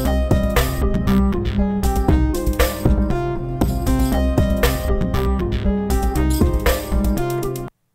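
Looped electronic music sequence built from several layered loops in Audiomodern Loopmix, a steady busy groove with beats and melodic parts playing continuously, loud and alone, then stopping abruptly near the end.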